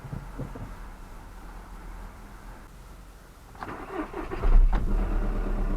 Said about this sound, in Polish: Ja go już odpalę. Zobaczymy, czy odpali.